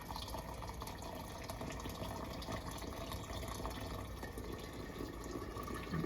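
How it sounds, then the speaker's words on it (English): Boiling water, about one quart, pours steadily into a jar for making kombucha, a continuous rushing, gurgling fill that stays even throughout. "I'm filling this up with 1 quart of boiling water"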